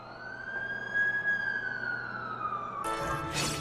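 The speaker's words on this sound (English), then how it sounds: "That's the ambulance I called." An ambulance siren from The Amazing Spider-Man 2 video game wails in a steady, slowly gliding tone as it approaches, then a burst of rough noise breaks in near the end.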